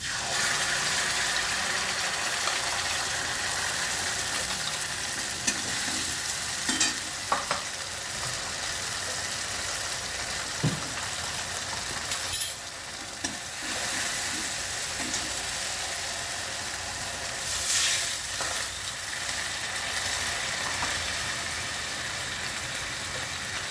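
Mustard and poppy seed paste ground with green chilli and salt sizzles loudly and steadily in a pan, a continuous hiss with a few stirring scrapes, no voices.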